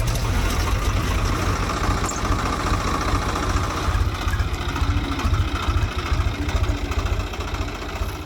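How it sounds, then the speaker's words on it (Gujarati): A tractor engine running steadily on farmland in a Gujarat village, driven by a woman farmer, with a loud continuous low, chugging idle that stays close and even throughout, with no talking. "આજે લલિતાબેન ટ્રેક્ટર પોતે ચલાવી રહ્યા છે"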